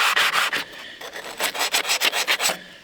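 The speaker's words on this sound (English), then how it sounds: "I'm going to sand around these, right up close like that." A 1987 Chevrolet El Camino truck bed is hand sanded by a steady series of close, rhythmic rubbing strokes that pause briefly and then resume quicker, with no talk.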